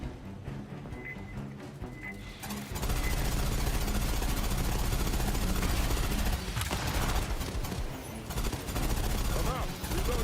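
Rapid, sustained gunfire in the video game Aliens: Fireteam Elite 2 erupts after a quieter opening, with dense automatic bursts and weapon effects continuing loudly while voices talk over them.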